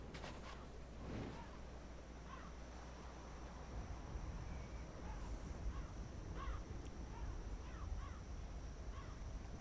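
A bird in Dark Souls calls repeatedly in the distance, cawing like a crow in short spaced bursts over a low ambient rumble and wind.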